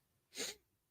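A single sharp sneeze, quiet and fairly close, with a bright burst that fades quickly into silence.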